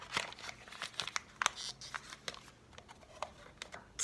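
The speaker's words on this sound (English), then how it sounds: "roll the paper over the glass, fold the bottom of the paper in" Paper is rolled and folded around a drinking glass for a seed lab setup, giving quiet, close crinkles and crackles in irregular bursts, some sharper rustles among softer handling sounds.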